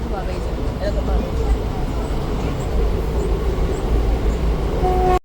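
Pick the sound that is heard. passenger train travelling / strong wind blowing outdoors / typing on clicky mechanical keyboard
passenger train travelling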